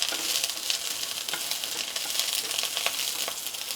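Garlic fries in hot oil in a pan, giving a dense, steady crackling sizzle with quick bright pops scattered through it and no voices.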